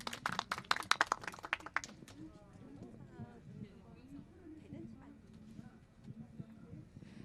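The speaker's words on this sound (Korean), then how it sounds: "박수로 맞이해 주시기 바랍니다" Audience applause welcoming a presenter at a Gyeonggi Province policy forum on household waste reduction and recycling, a burst of many hands clapping for about two seconds that then fades into room murmur and talk.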